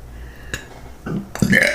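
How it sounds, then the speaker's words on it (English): A single loud, close burp comes after a brief click and a faint vocal sound, deep and throaty, ending abruptly. "I'm not burping a lot of burps like that. But that's one."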